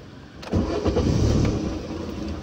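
A learner driver's car engine cranks and catches about half a second in, then settles into a loud, close, steady running rumble.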